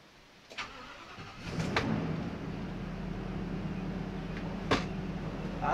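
Ford V10 engine in an RV with a modified engine cover: a few faint clunks, then the cranking start catches around two seconds and settles into a low, steady idle hum nearby.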